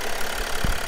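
A 2009 Mercedes E320 Bluetec diesel engine idles close up while being checked for a boost problem, a steady loud clatter with a brief knock near the end.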